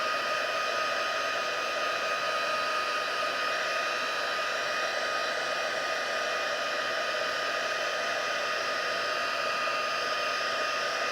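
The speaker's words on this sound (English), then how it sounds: "I'm going to dry this with my heat gun" A heat gun dries a handmade stamped card with embossing powder, blowing a loud, steady, unbroken whoosh with a high whining tone, close up and alone with no talk.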